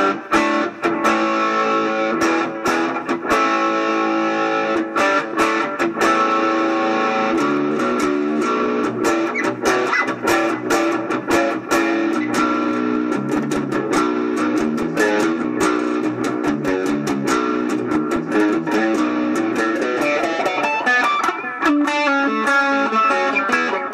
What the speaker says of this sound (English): This is the overdrive setting with the delay on top.